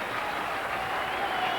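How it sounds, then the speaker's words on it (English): Audience applause at the 1985 Mrs America Pageant in Reno, Nevada, a steady wash of clapping from a large crowd that holds evenly for the whole moment with no speech over it. "how about a great big round of applause for the three pets right there"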